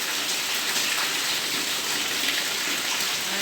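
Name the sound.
heavy rain pouring in Maceió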